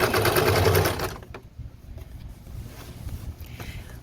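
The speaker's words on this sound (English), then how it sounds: "I'm gonna go ahead and start stitching that from there." A sewing machine stitches fringe trim, running fast and loud for about a second, then slowing into softer intermittent mechanical whirring with faint rattles, no talking.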